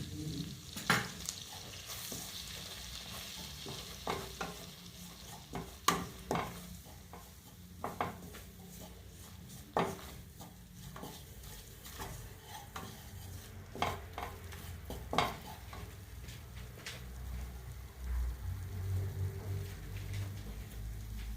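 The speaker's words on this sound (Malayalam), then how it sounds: "അതിലേക്ക് 2 ടേബിൾ സ്പൂൺ മൈദയാണ് ചേർത്ത് കൊടുക്കുന്നത്." Two tablespoons of maida are stirred into a hot sizzling pan for a chicken sausage pasta sauce, a quiet continuous sizzle broken by repeated scraping strokes of the spoon, close up and without speech.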